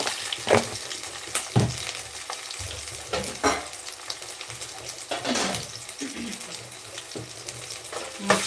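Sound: ginger paste frying in a pan

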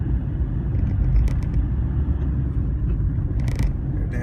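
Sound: Hyundai i20 car engine revving while driving

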